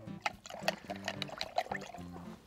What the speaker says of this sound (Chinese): 浇水，这边水要给它浇透啊